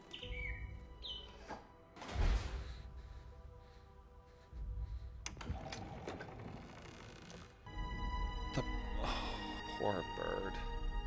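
A bird chirps in the Harry Potter and the Half-Blood Prince video game, with faint, scattered tweets mixed among clicks, rustles and mechanical clatter, partly under game voices and background sound.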